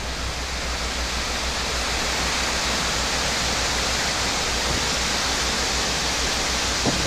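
A waterfall and small creek flow with a loud, steady, dense rush of water that continues unbroken throughout, close and with no voices.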